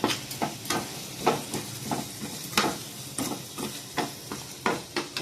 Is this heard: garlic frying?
yes